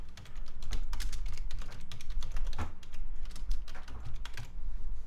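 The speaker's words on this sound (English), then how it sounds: "we can start basically just typing this up" Rapid, steady typing on a computer keyboard, close and clear, with continuous key clicks and no talk over it.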